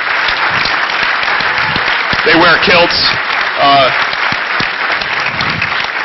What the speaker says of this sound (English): get a big round of applause for them real quick